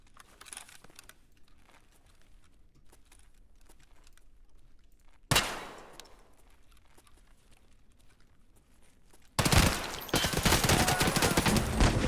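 Gunfire in a first-person shooter, Rainbow Six Siege, comes as a sharp single shot and then a loud burst of rapid fire after quiet stretches of faint clicks and movement.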